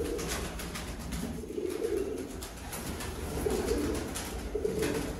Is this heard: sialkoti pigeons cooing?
yes